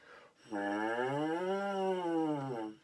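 A trombone's brassy tone slides upward, holds, then eases back down. A single sustained phrase, fairly close and moderately loud.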